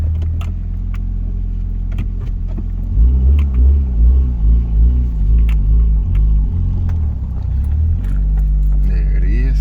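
Honda Accord CB7 with a rough engine creeping onto a parking block: a steady close engine rumble that swells and pulses as the car rolls, with a brief voice at the end.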